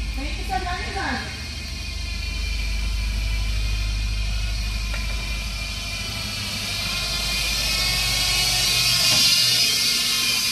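An old Scania truck engine idles steadily at close range, a continuous low rumble with a faint higher whine running throughout and a brief clatter near the start.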